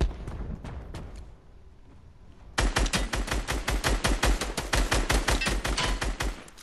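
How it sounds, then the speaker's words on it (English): Rapid automatic gunfire in a video game, fired at a mech from a zipline. Quieter scattered shots come first, then a loud, steady stream of closely spaced shots runs to the end. "she's shooting the mech from the zipline"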